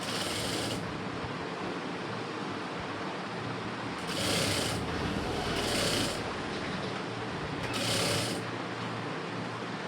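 A sewing machine stitches a blouse neckline, giving a loud, continuous mechanical whir that swells in short surges every couple of seconds, with no voices.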